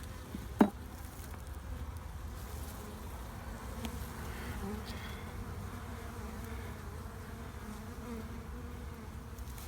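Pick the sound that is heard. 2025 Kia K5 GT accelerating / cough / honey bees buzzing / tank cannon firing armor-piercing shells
honey bees buzzing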